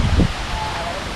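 Strong wind rushes steadily outdoors at a nature café by a fish pond, opening with a low, heavy buffet against the microphone before settling into a broad, constant roar.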